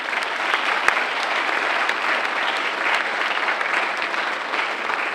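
Graduates and guests at a graduation ceremony applaud parents, loved ones and staff, a steady, even wash of clapping from a large crowd that holds for several seconds.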